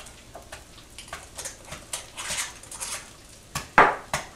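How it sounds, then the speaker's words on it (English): Soft squishing and tapping as cauliflower is mashed in a bowl, with irregular scrapes and a sharper clack of a utensil near the end. "Smash that cauliflower."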